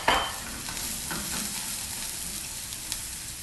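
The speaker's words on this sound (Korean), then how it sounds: "기름을 두르고 도라지 먼저 굽겠습니다" Doraji (platycodon root) frying in oil in a pan gives a steady, close sizzle with light stirring scrapes and a soft clink near the start.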